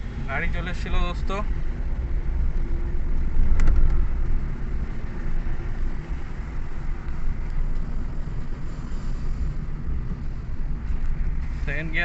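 A Renault Triber's engine hums low and steady as the car drives in second gear, with wind buffeting the microphone and someone talking over it.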